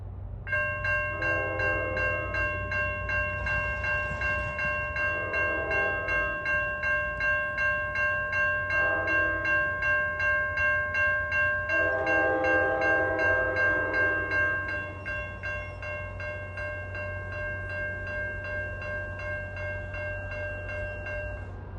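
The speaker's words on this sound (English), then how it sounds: "approaching at 2:12 is train 1118 from Suffern to Hoboken" An NJ Transit diesel passenger train from Suffern to Hoboken approaches with a General Motors locomotive on the rear. It sounds a loud horn pattern of two long blasts, a short one and a final long one over a steady engine and rail rumble.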